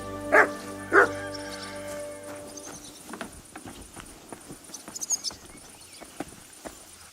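Two loud, sharp dog barks ring out close by in the medieval RPG Kingdom Come: Deliverance II, followed by softer ambient game sounds and faint clopping hooves.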